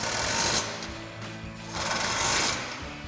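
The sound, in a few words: tightening grille guard bottom bolts with Allen wrench and 18mm socket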